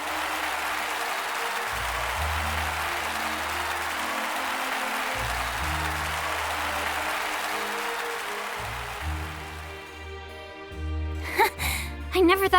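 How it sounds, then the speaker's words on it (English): Thundering crowd applause fills a stage scene in Octopath Traveler II after a duo's performance: dense, steady clapping for about ten seconds that thins out, followed by brief tonal game sounds. "the pair left the stage to the sound of thundering applause"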